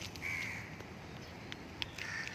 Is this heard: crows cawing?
yes